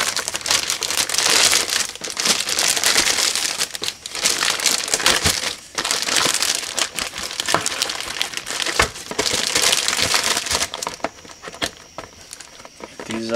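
Crinkling plastic wrapping being pulled off a Hopped Up modified 4WD shaft-drive RC touring car, loud rustling bursts in repeated waves with short pauses between them.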